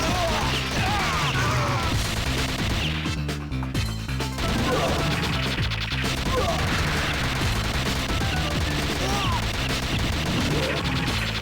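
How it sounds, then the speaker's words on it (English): Dense, continuous rapid gunfire and crashing impacts from an arcade shooting game fill the whole stretch, loud and chaotic, layered over music and sporadic voices. "Can't really tell over all this gunfire"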